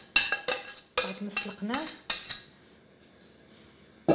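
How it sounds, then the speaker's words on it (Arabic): A spoon stirs boureka filling in a bowl, making several sharp metallic clinks and scrapes in quick succession before going quiet. A voice speaks briefly. "نخلطوا الخليط مع بعض كيما تشوفوا هكذا"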